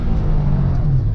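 A 1992 Nissan 300ZX accelerates hard, its engine note a steady, loud mid-range roar that rises as the turbo boost comes on, heard close and continuous without talk.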